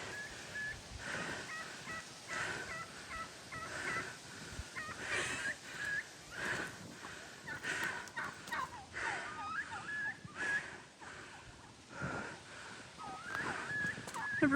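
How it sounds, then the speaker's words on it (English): Wild turkeys call repeatedly outdoors in winter, a series of gobbling and yelping notes at moderate distance, with no talking. "Never really heard a turkey make that sound before."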